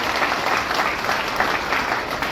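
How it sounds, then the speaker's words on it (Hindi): Loud, sustained applause from an audience at a civic gathering in Mehrauli marking Prime Minister Modi's 75th birthday, a dense continuous clatter of many hands held at an even level throughout, with no voices over it. "एक बार जोरदार तालियों से उनका अभिनंदन करें"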